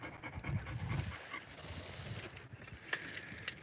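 Close, rhythmic panting from a dog guarding oysters out on the bayou, quick breathy huffs repeating steadily, with a faint clatter in the background.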